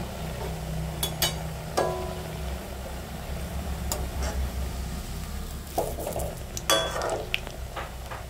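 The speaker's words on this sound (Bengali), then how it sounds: "আর এবার আমি ছেড়ে দিলাম দেখো তেলের মধ্যে।" Steady frying sizzle as mung dal puli dumplings fry in refined oil, a continuous crackling hiss with occasional sharper pops and faint clinks throughout.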